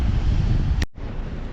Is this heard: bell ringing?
no